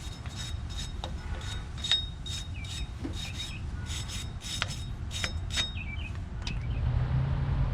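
Steel wire brush scrubbing brake parts on a 1995 Jeep Cherokee XJ, irregular bursts of close scratchy rasping strokes over a low background hum, no talk.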